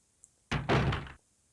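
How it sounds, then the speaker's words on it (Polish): A door opens in the Resident Evil video game, a single heavy thunk followed by a short creaking sweep in an otherwise quiet scene. "wchodzimy w pierwsze drzwi"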